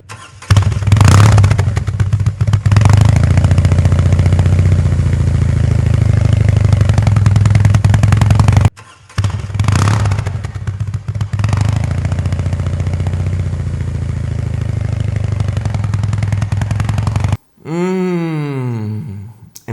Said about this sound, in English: do you want to hear this beauty of an engine? Do you want to hear what it sounds like?